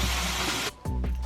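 Water runs steadily over a teeth whitening tray, breaks off briefly, then resumes in short spraying gushes.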